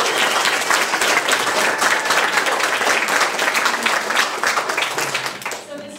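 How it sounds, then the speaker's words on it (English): Sustained audience applause at a college spring student art gallery show, dense clapping from many hands held steady for about five seconds before tapering off at the end. "Everybody deserves a round of applause."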